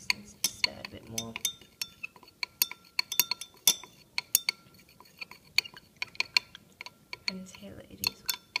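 A solution is stirred in glassware to dissolve a solid while making a standard solution in a chemistry lab, a quick irregular series of light clinks and ticks of stirring rod against glass with some faint background noise.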